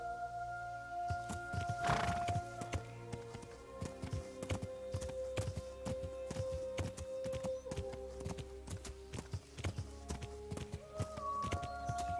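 A horse in a video game trots steadily with rhythmic hoof clip-clops on hard ground, with faint in-game background music and ambience beneath it.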